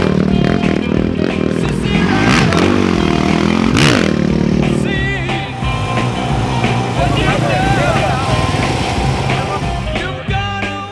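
A 1980 Honda 125 XLS motorcycle racing the Baja 1000 roars loudly up close, its engine rising and falling in pitch over rattling and scraping, while voices talk throughout.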